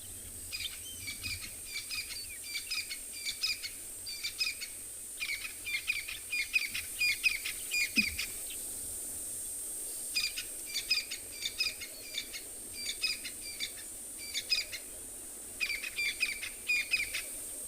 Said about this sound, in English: Then all melody sound that coming out from the background, that's a crested francolin.